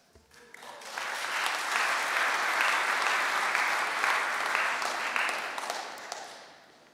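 A congregation claps for the leavers at a theological college commissioning service, the applause swelling quickly, holding steady for several seconds and then fading away.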